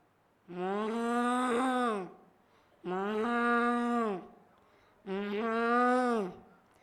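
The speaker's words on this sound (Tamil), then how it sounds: "அடுத்ததாவது மாட்டின்" A cow lows at a school day event: three steady, drawn-out moos of about one and a half seconds each, evenly spaced and close, with no talking.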